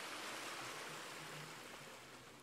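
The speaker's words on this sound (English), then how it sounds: "you get these lovely streams" A forest stream on a damp mountain bike trail at Glentress rushes in a steady, broadband wash of flowing water, continuous and fairly close for a couple of seconds with no voices.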